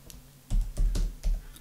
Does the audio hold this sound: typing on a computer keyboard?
yes